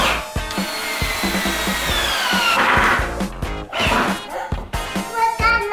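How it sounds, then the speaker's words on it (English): Power screwdriver driving screws while a child's bed is put together indoors, whirring in long bursts with rattling wood and metal knocks between, close and loud, with voices at times. "What's that noise? It's a screwdriver."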